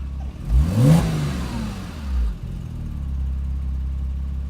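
A car engine surges and fades as another vehicle passes nearby, followed by the steady low idle rumble of a 2008 Porsche Cayman S.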